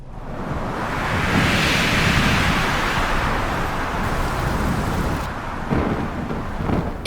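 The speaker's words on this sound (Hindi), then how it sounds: "नीचे से बहुत तेज हवा आ रही है इस वक्त।" Strong wind gusts up from below in a loud, continuous roar that builds over the first seconds, holds steady, then eases slightly near the end.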